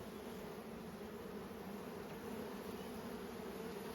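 Honey bees hum steadily at an open hive full of comb and honey, a constant, even drone heard up close and alone.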